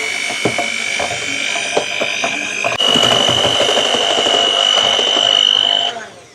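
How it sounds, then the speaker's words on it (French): Electric hand mixer beating a mixture of egg yolks and mascarpone, a steady high-pitched motor whine that rises in pitch midway, with bowl-scraping clicks, running continuously at close range before cutting off at the end. "Et là, je vais faire le reste au batteur électrique."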